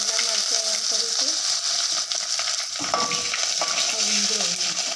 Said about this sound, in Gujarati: વઘાર કરીશું ઢોકળાનો